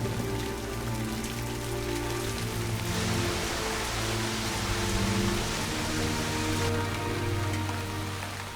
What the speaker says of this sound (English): The rains are finally here.